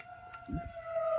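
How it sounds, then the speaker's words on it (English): A steady, wailing siren tone holds in the distance, with a brief muffled voice-like sound passing in front of it. "I don't know if you can hear the sirens in the background"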